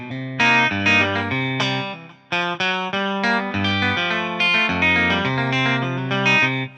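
An electric guitar played through a guitar VST plugin picks out a bright, heavily effected melody of chords and single notes, up close with a chorus-like, slightly harsh tone and no talking.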